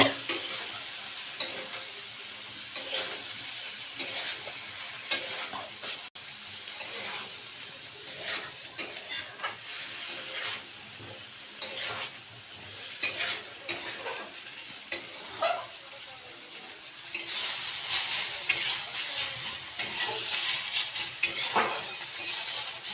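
A mixture of turmeric, chilli and cumin drops into hot fish oil and fries with a steady, loud sizzle, with stirring and utensil scrapes throughout and the sizzling growing stronger near the end.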